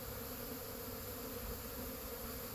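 Honey bees swarm around a hive outdoors on a mild winter day, their buzzing a dense, steady drone that fills the whole stretch without pause, moderately loud and close, with no voices over it.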